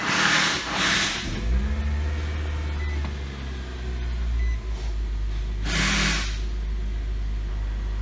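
A Nissan Sentra with an idle stalling problem cranks and fires with short bursts of starter noise, then settles into a low, steady engine drone, while a brief clatter and a second burst break in midway.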